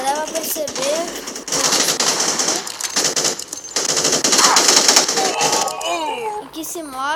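Rapid automatic gunfire bursts from The Respawnables mobile shooter game, dense and loud, mixed with game effects and tones while a child-like voice talks over the action.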